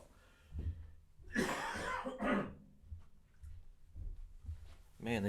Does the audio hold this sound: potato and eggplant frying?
no